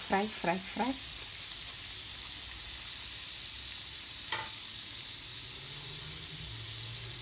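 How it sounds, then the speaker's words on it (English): Fried rice frying in butter in a pan gives a steady, even hiss of sizzling that runs throughout, with a brief voice at the very start and a light stirring sound partway through. "now I'm going to be frying the fried rice"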